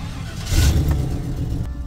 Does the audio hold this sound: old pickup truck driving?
yes